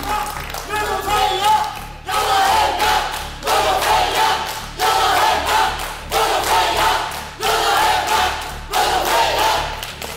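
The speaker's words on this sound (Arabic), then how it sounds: "تشجيع جامد جدا من جمهور المنوفيه" Menoufia University supporters cheer for their team at a nursing quiz show, the crowd roaring in loud rhythmic bursts every couple of seconds with clapping mixed in, close and sustained.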